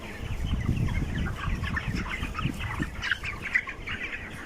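Broiler chickens on a poultry farm, a dense chorus of overlapping clucks and chirps from many birds packed close, continuous and busy throughout.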